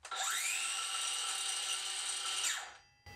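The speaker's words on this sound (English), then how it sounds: "Did you notice anything about when I just ran this circular saw?" A Craftsman V20 cordless circular saw spins up and runs at a steady high whine for about two and a half seconds, then winds down as it stops, loud and close with no talking.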